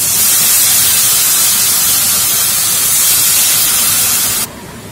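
Turmeric, coriander and chili powder frying in a pan, a steady loud hiss and sizzle that runs unbroken and drops away sharply near the end.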